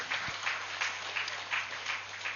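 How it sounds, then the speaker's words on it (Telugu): Audience applause at the Shivoham 2024 meditation event, honoring Gurusthan. Fairly faint, steady clapping with soft rhythmic swells throughout, no voices over it. "గట్టిగా చప్పట్లు కొడదాం గురుస్థాన్కి."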